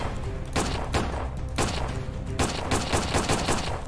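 Rapid bursts of gunfire from a SpongeBob video game, shooting at the Chum Bucket, clustered in quick repeated volleys with short gaps, loud and close throughout.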